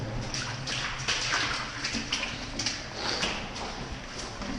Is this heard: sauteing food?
no